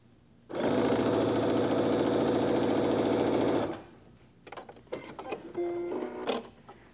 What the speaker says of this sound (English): You're just sewing those right to each side of the square.